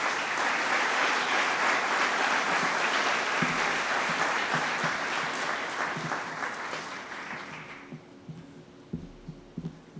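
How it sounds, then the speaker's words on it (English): Warm audience applause at an annual awards ceremony at the King Arts Complex, dense and sustained for about eight seconds before fading, followed by a few scattered late claps in a quieter hall. "Mark, give him a warm round of applause"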